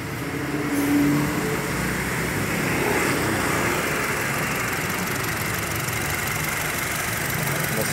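A 2016 Honda HR-V 1.5L engine fitted with an HHO fuel saver and EFIE idles smoothly and steadily, a continuous even hum close by with no voices.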